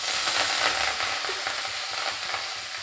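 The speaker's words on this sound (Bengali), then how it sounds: "এবার এর মধ্যে আমি এই শাকটাকে দিয়ে দেবো।" Gourd leaves hit hot oil in a pan while cooking a prawn and gourd-leaf bata. A steady, close sizzle and crackle of frying runs throughout, with soft scraping from stirring.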